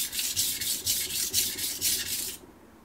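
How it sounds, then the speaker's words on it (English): A knife blade stroked back and forth across a coarse Shapton Pro whetstone, close and crisp, with about eight rhythmic gritty rasping passes before stopping abruptly. "I'm glad we used the coarse stone for this."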